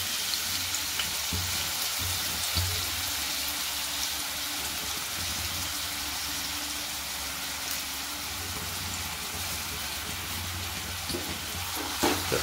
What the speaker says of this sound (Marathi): तर ते आता गरम झालेल्यावर कांदा घालायचा आहे सर्वात आधी.